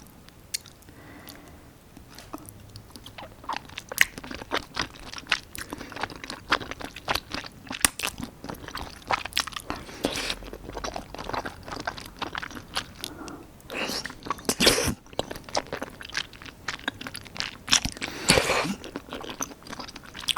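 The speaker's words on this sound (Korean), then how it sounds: "당면도 먹어볼게요" Glass noodles from spicy rosé tteokbokki being chewed up close, a steady run of soft wet bites, squishes and small crunches lasting throughout, without talking.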